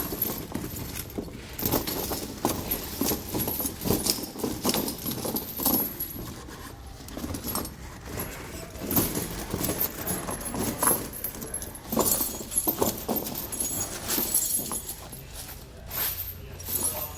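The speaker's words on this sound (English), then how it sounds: "Then you can grab your chain and start to get it draped over your tire." A Titan tire chain is draped over the tire of a 2019 Ford F-350 Super Duty, its metal links jangling and clinking in irregular bursts close by, with occasional softer rattles between handling moves.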